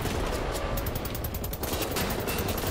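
Enemy gunfire in the video game Wolfenstein: The New Order, a dense, continuous barrage of rapid shots that stays loud and close throughout with no pauses.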